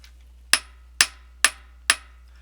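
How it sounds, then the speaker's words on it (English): Four light, evenly spaced hammer taps flattening metal wire for wire wrapping, each a sharp tick with a short ring, close by and otherwise quiet. "You just hammer lightly, turn it over, do it on both sides."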